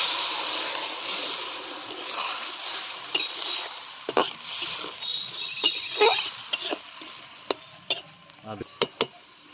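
Water is poured into a hot cooking pot, and a rushing hiss gives way to bubbling and sharp sizzling pops, close up.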